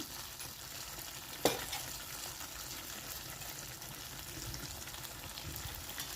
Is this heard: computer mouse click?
no